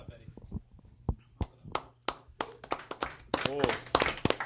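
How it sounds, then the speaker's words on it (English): Scattered claps from a small studio group on a comedy podcast, uneven and sparse at first and then thickening into a denser burst, with voices talking over them. "Put your bottle down, Watt, and applaud like a gentleman."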